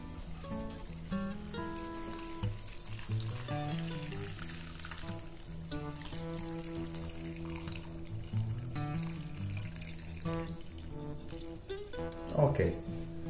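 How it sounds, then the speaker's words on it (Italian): Water poured into a pot over dried tomatoes during home preserving; a splashing, bubbling pour runs beneath someone speaking Italian, with background music throughout and a louder splash near the end. "Quindi mettiamo l'acqua,"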